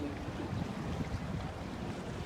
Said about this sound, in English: the cold breeze